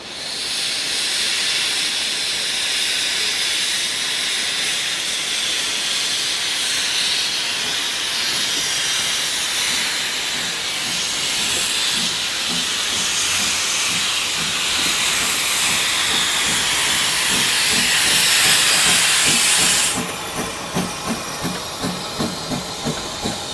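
A steam locomotive pulling out of a station in Wales, releasing a loud, sustained roaring hiss of steam. Rhythmic chuffs emerge as the train departs, and the hiss cuts off near the end, leaving regular puffing beats.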